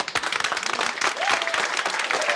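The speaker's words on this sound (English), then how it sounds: "Let's give them a round of applause." An audience breaks into dense, sustained applause, many hands clapping at once in a steady wash of sound that holds at an even level from start to finish.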